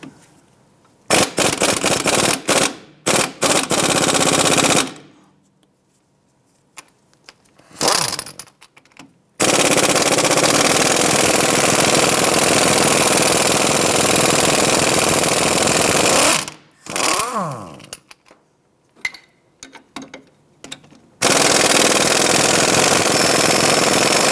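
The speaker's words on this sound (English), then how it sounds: "Let's go ahead and remove the two strut bolts right here." Strut bolts on a 2001-2007 Ford Escape being loosened with an 18mm socket and wrench, heard as loud, bursty rattling power-tool runs broken by short quiet gaps, close up and without talk.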